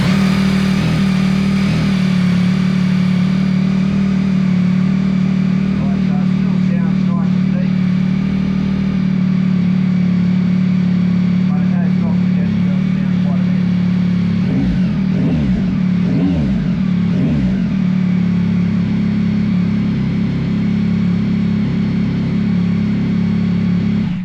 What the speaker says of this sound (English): I'll just start the bike up cold and let you guys see what it sounds like with the quiet core baffling.